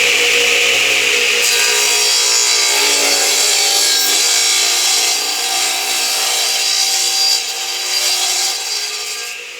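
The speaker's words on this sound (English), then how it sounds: "I'm going to have to pull the radial arm saw out" A 12-inch radial arm saw with a Chopmaster blade cuts through a rough-sawn, air-dried black walnut board, giving a loud, continuous cutting roar for about ten seconds that eases slightly near the end.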